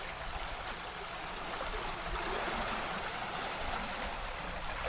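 Water runs by gravity from the North Crimean Canal into a connecting canal, making a steady, unbroken rushing and gurgling flow that holds an even level from start to finish with no voices.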